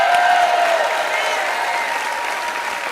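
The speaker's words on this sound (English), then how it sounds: "Let's give Monica a round of applause" Town hall audience applauding a speaker, a steady wash of many hands clapping that holds evenly and fades slightly toward the end.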